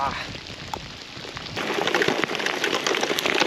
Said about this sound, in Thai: ฝนก็ตกแล้วนะ